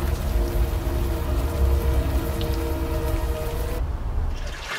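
Rain in the video game Unavowed falls as a steady, full hiss with a low rumble beneath, continuous and fairly loud before thinning out abruptly near the end.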